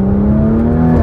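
A loud, steady engine drone from a 2021 Porsche Macan GTS, heard briefly from close by with no voices.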